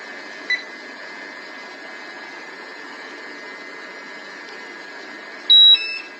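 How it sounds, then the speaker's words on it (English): A gas detector alarm: a steady high electronic tone drones throughout, with a short sharp beep early on and a louder burst of beeping near the end, signalling a hazardous atmosphere; no voices. "You can hear the alarm going off. That means that there is a hazardous atmosphere."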